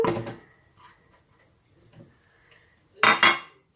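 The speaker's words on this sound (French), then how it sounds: "On commence à mélanger tout ça." Butter and brown sugar are mixed in a bowl, producing soft intermittent scrapes and knocks of a utensil, then a louder burst of clinking and scraping at the end.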